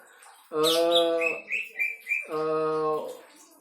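A few quick, high canary chirps sit between two long, steady, low-pitched vocal tones.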